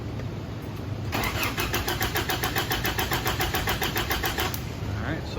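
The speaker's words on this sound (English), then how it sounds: "since I know the truck will not crank because I've disabled the spark, I'm going to turn this over" A truck engine with its spark disabled for a compression test cranks over on the starter, giving a fast rhythmic chugging that starts abruptly, holds a steady beat for about three and a half seconds, then stops.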